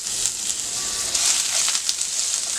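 Bay leaf, cumin, garlic and ginger sizzle in hot oil in a pan, a steady bright hiss with light crackles, close and continuous with no talking.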